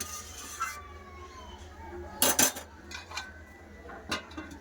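Metal lid set onto a cooking pot of carrot, potato and pea curry, a couple of clattering clanks amid faint kitchen clinks, no talk.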